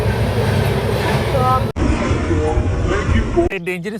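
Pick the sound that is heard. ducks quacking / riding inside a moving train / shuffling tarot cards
riding inside a moving train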